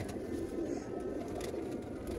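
Sialkoti pigeons cooing softly and steadily in a loft, a low continuous murmur of several birds close by with no voices over it.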